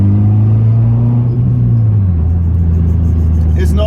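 Subaru Forester driving, with a steady low engine and road drone that shifts down in pitch midway, plus faint scraping noise said to come from gravel caught in a brake rotor.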